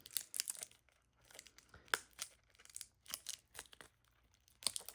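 Plastic packaging holding a small item is cut open with scissors, giving faint, close crinkling and snipping in short irregular bursts.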